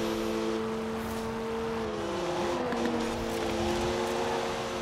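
BMW M2 in the Forza Horizon 4 racing game, its engine holding a steady, sustained drone that sweeps slightly lower and then back up as it revs through a turn.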